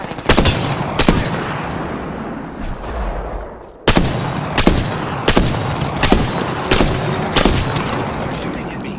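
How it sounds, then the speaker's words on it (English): Gunfire in Apex Legends, with loud, sharp shots and heavy impacts spaced irregularly over a sustained rumbling battle backdrop, including a brief lull before the firing picks up again. "Are shooting at me."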